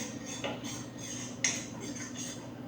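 A spoon scrapes and taps against a pan while mixing in a teaspoon of chilli powder for groundnut chutney powder, giving soft, steady metallic clinks with one sharper knock near the middle, close up and without talk.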